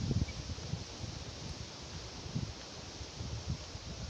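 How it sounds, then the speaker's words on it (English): Wind rushes through the high crowns of beech trees on Holborn Hill, a steady broad rustle of leaves with soft gusty swells and no voices. "That wind certainly blew in through the tops of these beeches today."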